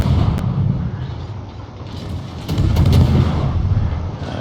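Naval guns firing behind a ship in World of Warships, deep rumbling booms layered over continuous low engine and sea noise, swelling louder toward the second half.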